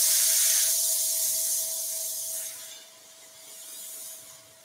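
An airbrush sprays coral red paint onto a wooden carousel base, giving a close, steady hiss with a faint tonal whine that gradually softens and then swells again, with no talking.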